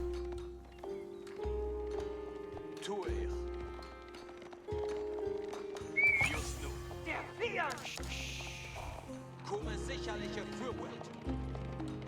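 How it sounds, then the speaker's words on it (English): Gilded Horsemen cavalry in Age of Empires move across the map, their rapid clip-clop of hooves running at moderate level beneath layered game effects and tonal in-game sounds. "Gilded Horsemen moving around"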